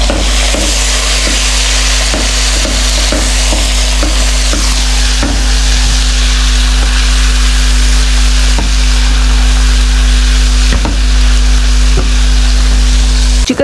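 Chicken frying in a pan with golden-brown garlic and salt: a loud, constant close sizzle under a low steady hum, broken by repeated rhythmic scraping knocks from stirring, with no voices.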